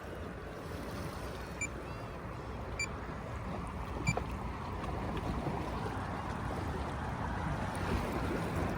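A Haswing Cayman 55 electric trolling motor running on a boat makes a steady, faint whirring hum under broad water wash and wind noise, with a few small knocks.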